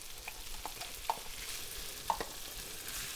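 Crab cooking in butter in a hot pan, a steady low sizzle with a few soft stirring clicks and taps, close and alone with no talking.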